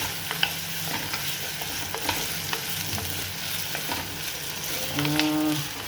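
Ingredients for a thin brinjal gravy sauté in a hot pan, a continuous sizzle broken by repeated scraping strokes of a spoon, close and steady, with a brief voice near the end.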